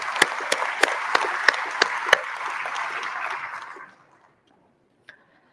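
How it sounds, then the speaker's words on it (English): A burst of audience applause at a South African election results announcement, with several sharp claps on top, lasting a few seconds before fading out, followed by a single faint tick. "I think we should give them a round of applause"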